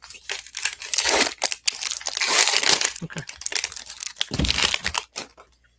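Foil wrapper of a Rangers Upper Deck hockey trading card hobby pack being crinkled and torn open up close, a run of loud rustling and crackling bursts with brief pauses.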